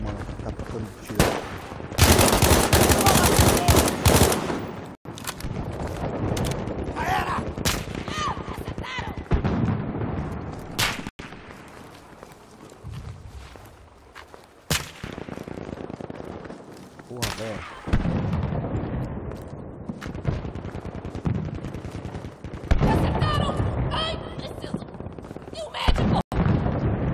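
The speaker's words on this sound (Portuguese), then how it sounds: "tá tocando tiro." Repeated bursts of gunfire crackle through the scene, with rapid volleys and single sharp shots, loud at times and more distant at others, mixed with shouting voices.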